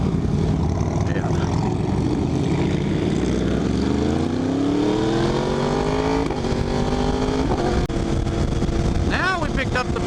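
A motorcycle on a group ride, its engine droning close and loud with a steady rise in pitch as it accelerates, over constant wind rush.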